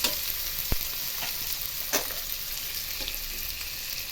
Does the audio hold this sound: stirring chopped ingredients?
yes